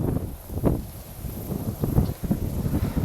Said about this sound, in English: Welcome to a windy Manitoba day